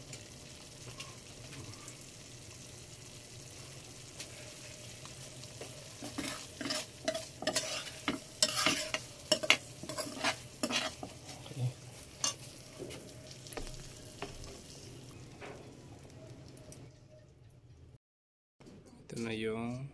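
Sardines and tomatoes sauté in a pan with a continuous sizzle under a spoken voice, while a spatula scrapes and clatters repeatedly; the hiss drops out near the end before a brief return.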